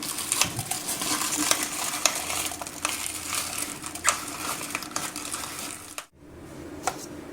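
Chillies are chopped in a food chopper, giving a continuous rattling, crunching churn with scattered clicks. The chopping stops abruptly near the end, followed by a few faint taps.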